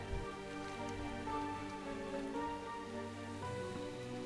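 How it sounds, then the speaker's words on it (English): Rain falling in the game World of Warcraft: Shadowlands, heard as a steady patter at moderate level under a sustained tonal music bed, with no voices. "We weren't expecting rain."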